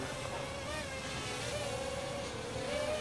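A Fineco FX-3V small quadcopter drone in flight outdoors, giving a steady, continuous buzzing whine whose pitch rises and falls slightly, with wind noise around it.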